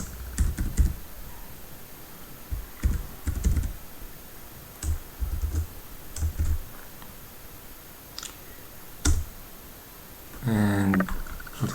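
Computer keyboard typing code in bursts of close, crisp key clicks with short pauses, ending in a faster flurry of keystrokes.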